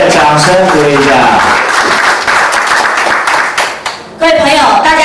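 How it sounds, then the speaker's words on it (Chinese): An audience at a speaker-training seminar claps warmly as a lecturer comes on stage: dense, loud, continuous applause that fades briefly near the end, with a voice speaking over it at the start and finish. "来，我们给吴老师热烈掌声鼓励一下"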